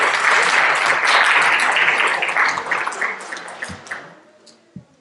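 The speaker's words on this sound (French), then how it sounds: "je vous demande d'applaudir également" An audience at a French heritage conference breaks into dense, loud applause that holds steady for a few seconds, then thins into scattered claps and fades out.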